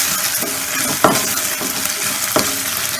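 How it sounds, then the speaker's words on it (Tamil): Tomatoes sauté in oil with ginger and garlic in a close, steady sizzle, with two sharper spoon scrapes as the pan is stirred. "அது கூட தக்காளி சேர்த்து நல்லா வதக்கிக்குவோம்."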